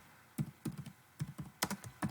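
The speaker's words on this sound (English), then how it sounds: "when I press enter on the keyboard, I automatically get another bullet" Keystrokes on a computer keyboard while a slideshow is being built, a series of crisp, close clicks arriving in irregular bursts, some tapped in quick pairs, with no talking.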